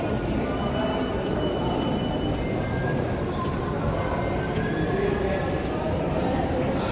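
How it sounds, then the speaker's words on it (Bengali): A Milan metro train pulls into an underground station, with a steady rolling rumble and high wheel squeal running continuously throughout, loud and close, while people talk over it. "এখানে দুইটি মেট্রো একসঙ্গে দাঁড়াবে"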